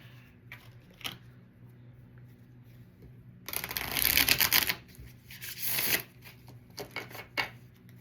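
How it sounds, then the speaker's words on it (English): Deck of playing cards being shuffled in bursts, a riffle near 3.5–4.8 s and another around 5.5–6 s, close and fairly loud, with softer card handling and light taps between over quiet background noise. "I'm going to try not to shuffle as loudly in your ear."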